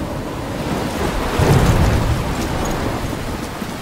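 Stormy rain roars steadily in Life is Strange, with a deep rumble of thunder swelling near the middle before easing back into the constant downpour.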